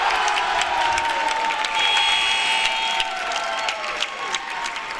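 Crowd at a women's college basketball game between BJU and Pensacola Christian cheers and applauds steadily in an indoor arena, a dense sustained roar of clapping and voices throughout.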